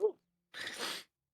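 A single short, breathy sneeze burst, close and fairly quiet, following a brief vocal sound and ending in silence.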